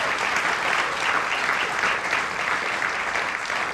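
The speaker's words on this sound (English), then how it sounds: "so please can we give them a round of applause" An audience at a storytelling festival in Nebraska claps in a continuous, dense wash of applause, steady and fairly loud throughout the short stretch.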